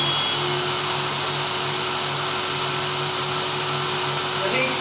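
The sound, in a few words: Versaspa 2 automated spray tanning booth running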